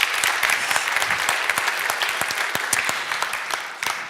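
A TEDx audience at KTH gives a warm round of applause for a speaker, a full, sustained clapping wash with many crisp individual claps standing out, holding strong for about four seconds before easing slightly.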